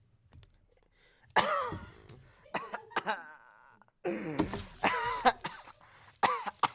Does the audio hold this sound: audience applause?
no